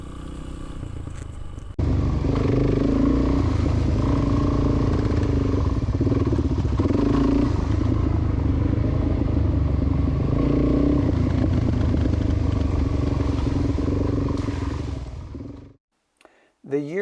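A 2008 Honda CRF 230L street-legal motorcycle engine runs steadily up close, a loud, rough idle with clattering mechanical texture holding for most of the stretch before cutting off near the end; a voice talks over it.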